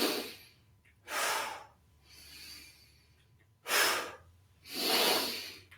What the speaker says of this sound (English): do it really slowly, breathing in, and we're going to breathe out.